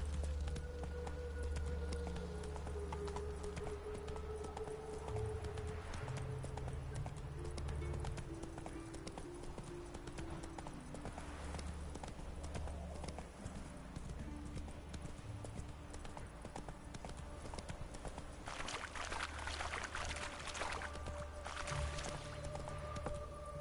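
Roach, Geralt's horse in The Witcher 3 video game, gallops with steady rhythmic clip-clop hoofbeats throughout, close and continuous over a low game soundscape with a brief whinny-like accent.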